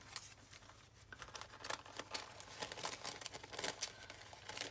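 Quiet, rapid snipping and crisp rustling of mulberry paper being cut with scissors, close up, in irregular clusters of small cuts.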